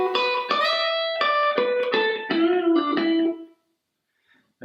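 A distorted electric guitar plays a short lick, a run of picked notes with a string bend, release and pull-off flowing into a sustained final note before cutting to silence.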